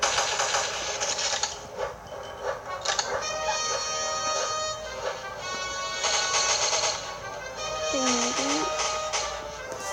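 Rapid bursts of gunfire crackle in a video game match, repeated machine-gun volleys over a constant busy mix of game sounds and effects, moderately loud throughout.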